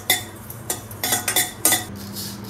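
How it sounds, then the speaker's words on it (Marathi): A metal spoon stirs roasted chakli flour mix in a hot, thick-bottomed kadhai, producing a series of sharp scraping clinks in an uneven rhythm, close and fairly loud. "आपली कढई तापलेली मी ढवळलंय आणि आता ही बंद केलं।"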